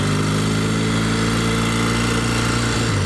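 A 1964 Royal Enfield Interceptor Mk1 motorcycle pulls away in first gear, a loud, close engine drone that holds steady with a slight rising pitch as it moves off.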